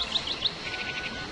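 Birds chirp in the video game Syberia, a few quick high tweets over a soft ambient game background.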